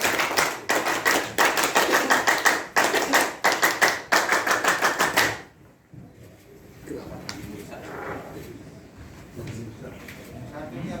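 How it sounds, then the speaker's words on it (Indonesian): A group of Scouts does the Pramuka clap twice at a Kwarran Samarinda Ilir Scout event, with loud, sharp, rhythmic claps in tight bursts for about five seconds, then a sudden stop into quiet room murmur. "Dua kali tepuk pramuka."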